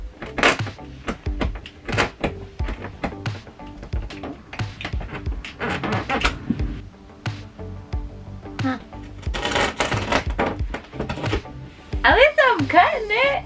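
Old RV faucet being cut out from plywood in a travel trailer, with irregular close sawing and scraping strokes, knocks and taps in uneven bursts.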